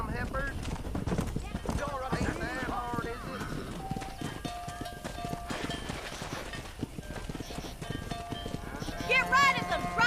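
A cattle herd is driven down a road in the video game Red Dead Redemption, with continuous hoof clip-clop and livestock calls under frequent shouting voices and game music.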